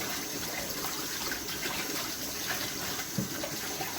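Steady running water from a tap splashes while collard greens are rinsed in salted water to wash bugs off, a continuous close hiss and gush with no talking.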